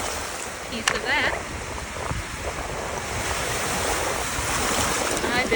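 Waves from Lake Huron wash steadily onto the shore in cold autumn wind in Northern Michigan. The surf is continuous and loud, with rough wind buffeting the microphone throughout.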